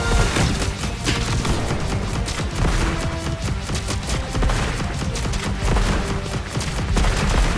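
A weapon overload attack in Contra Operation Galuga sets off a dense barrage of rapid gunfire and explosive bursts that stays loud and unbroken throughout.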